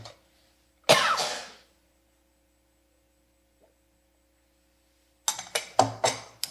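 A woman in a church audience coughs once sharply, then after a long quiet stretch with faint mains hum lets out a burst of several quick coughs in a row.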